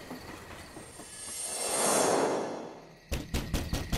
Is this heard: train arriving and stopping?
yes